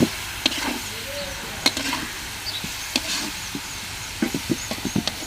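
Vegetable bhaji frying in a pan, with a steady low sizzle broken by repeated sharp scrapes and clacks as a spatula stirs it; close and fairly quiet, no talking.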